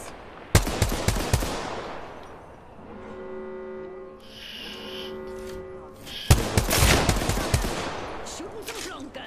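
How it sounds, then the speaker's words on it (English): Automatic gunfire from a long gun in the battle-royale game Apex Legends comes in two loud, close bursts of rapid shots, separated by a tonal in-game hum. "Shooting some long gun."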